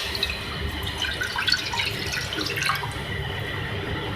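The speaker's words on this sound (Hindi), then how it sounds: "इसके लिए मैं पानी डाल रही हूँ।" Three glasses of water being poured into a cooking pot to start sugar syrup for rasgulla: a continuous splashing pour with bright bubbling and trickling, fairly close and steady, with no speech.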